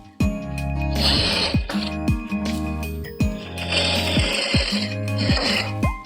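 A sewing machine stitches the seam of a short puff sleeve in several fast whirring runs, each starting and stopping sharply, with brief quiet gaps between passes.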